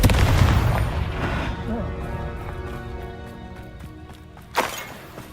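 The Confringo fire-blast spell from the video game Hogwarts Legacy: a loud, roaring burst at the start fades into rumbling game sound, and a sharp crack follows near the end, with in-game voices over it.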